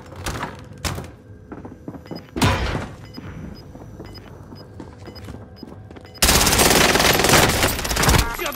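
Gunfire in Call of Duty Warzone Pacific with an M4A1 in 9mm Parabellum: scattered single shots and thuds, then a loud sustained automatic burst, amid game sounds.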